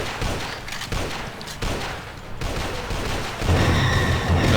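M4 rifle gunfire in the zombie shooter Dead Trigger 2, dense rapid bursts at steady volume mixed with game noise, with no talk.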